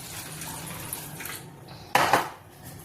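Water poured into a metal pot while rinsing rice in a home kitchen: soft clinks of the vessel at first, then a short, fairly loud splashing pour that fades away, with no talking.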